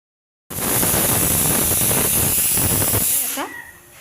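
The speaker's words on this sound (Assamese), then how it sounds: "এয়া মোৰ হুইচেল মাৰিব লৈছে এতিয়া কুকাৰটো" A pressure cooker lets out a loud, steady hiss of steam with a high whistle on top. It runs continuously for about three seconds, then cuts off and fades.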